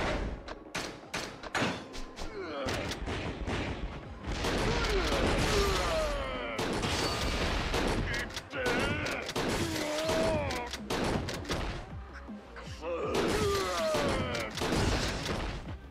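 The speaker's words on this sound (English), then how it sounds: "let's keep using the shotgun." Repeated shotgun blasts in the Yakuza 0 video game, sharp booming shots fired in quick irregular bursts amid a busy fight soundscape, with someone talking over the gunfire.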